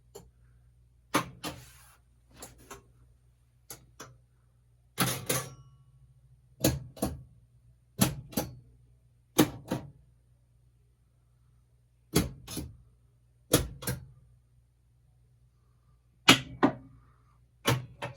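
Solenoids on a Gottlieb Raven pinball machine fire one at a time in test mode, producing about fourteen sharp, loud clacks at uneven intervals. A steady low electrical hum runs underneath, and no one speaks.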